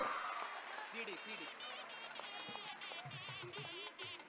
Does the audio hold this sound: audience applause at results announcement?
yes